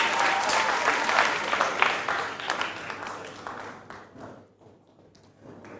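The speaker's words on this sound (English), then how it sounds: "Ladies and gentlemen, a round of applause" An audience gives a round of applause to quiz contestants at the end of a round, with dense clapping that stays steady for several seconds and then thins out and fades.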